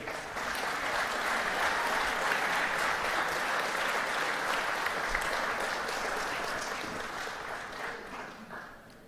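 Sustained applause from a full audience for Hall of Fame inductees at an awards ceremony, steady and dense for most of the stretch before thinning slightly at the end.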